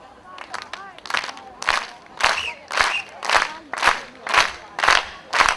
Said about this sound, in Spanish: Ahora las palmas, sí. Primera palma.